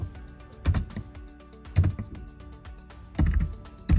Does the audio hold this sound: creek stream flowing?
no